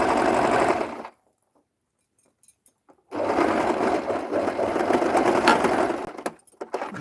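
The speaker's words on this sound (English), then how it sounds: "Reverse stitch, and you just keep going up to the end here." An electric sewing machine runs a reverse stitch on fabric, its fast rattling whir close and loud, stopping abruptly for about two seconds before starting again and running steadily to the end.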